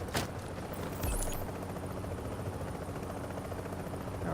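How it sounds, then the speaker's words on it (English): Helicopter rotor drone in The Division video game, a steady low continuous thrum filling the background, mixed with game ambience and faint intermittent effects, with no talk over it. "I really want that helicopter."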